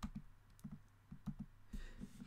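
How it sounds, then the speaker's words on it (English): Typing on a computer keyboard, quick irregular clusters of close, soft key clicks with short pauses between bursts and no one speaking. "I am not typing well today"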